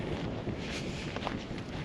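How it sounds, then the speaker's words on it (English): Strong wind buffets the microphone high in the Cairngorms mountains, a steady loud roaring rush with gusty swells throughout and no other clear sounds. "God, that is windy."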